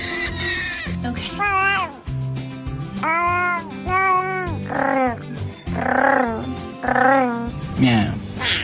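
A cat meows repeatedly, loud and close, with drawn-out rising and falling cries coming every second or so across the whole stretch, mixed with some vocal grunting.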